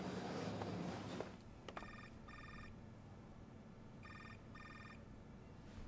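A telephone rings indoors in a period drama scene, two paired bursts of electronic trilling separated by a pause, clear and moderately close, following a short stretch of muffled background activity and a few knocks.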